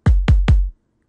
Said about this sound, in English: Nice, airy, punchy kick.